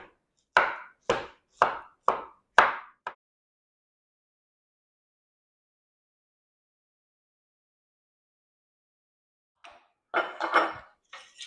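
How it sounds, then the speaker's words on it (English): A knife chops strawberries into fine pieces on a cutting board: a quick run of six crisp, close taps, then a long silence before a few more scattered cuts. "And they need to be chopped into fine pieces."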